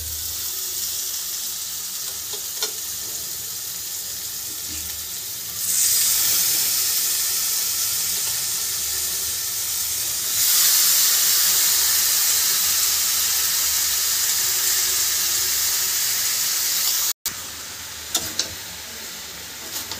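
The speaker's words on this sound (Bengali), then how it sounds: "আমি এটাকে জল না দিয়ে কষে রান্না করব" Chicken and egg curry sizzles and steams in a pan, cooked down in the water the pieces were boiled in, a close, steady hiss that swells louder at times, with no talk.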